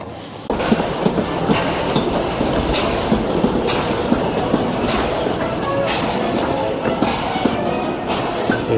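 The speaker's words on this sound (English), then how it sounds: "Here's the train" A train rolls past close by at Disneyland Paris, with loud rumbling and rhythmic clickety-clack beats from the wheels at steady intervals.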